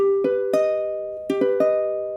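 An augmented chord on piano, played twice as three rapidly ascending notes that ring out together, clear and close, without speech.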